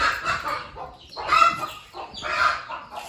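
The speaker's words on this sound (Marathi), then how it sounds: "कोंबड्या आले घरात." Chickens that have wandered indoors into a family home cluck loudly and close by in uneven bursts, with a chick among them and rustling noise in between.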